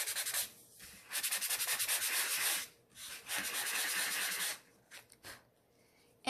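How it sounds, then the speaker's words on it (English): A sandpaper block rubs over the raised parts of embossed peach cardstock in loud, close, rhythmic scraping strokes, with several long bursts separated by short pauses. "we're going to pull out an old-fashioned sandpaper block. I embossed this peach cardstock, and I'm going to sandpaper the raised parts."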